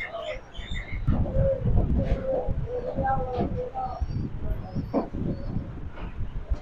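Pigeon chicks cooing at Kawran Bazar market in Dhaka, soft repeated coos and chirps scattered over market bustle, with a voice talking in the background.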